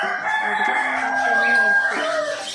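A chicken calls loudly and close by, a drawn-out crowing cry with clucking tones, heard alone without talk.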